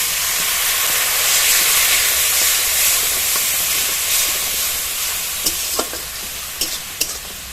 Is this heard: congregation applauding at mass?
no